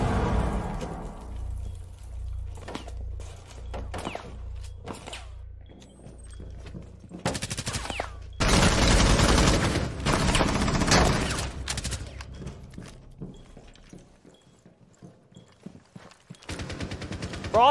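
Rapid bursts of video game gunfire crackle in loud volleys, automatic fire rattling in clusters with brief pauses and a heavy sustained barrage near the middle before tapering off.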